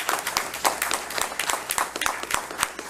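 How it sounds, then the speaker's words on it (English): Applause from an audience at a county school board meeting honoring student scholars, a steady crackle of many hands clapping throughout with no pause. "Let's give them a big round of applause"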